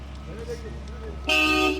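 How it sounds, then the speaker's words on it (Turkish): A short car horn toot blares near the end, following a moment of muffled voices and traffic hum. "Bak korna çaldılar tehlikeli"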